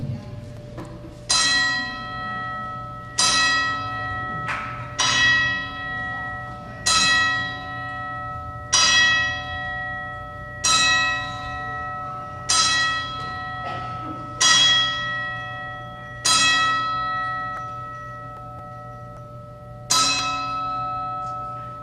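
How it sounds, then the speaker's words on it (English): A single bell rung ten times in a slow, evenly spaced salute, each clear ringing strike decaying before the next, loud and resonant in a large venue. "this time, we will be a 10-bell salute for these three gentlemen"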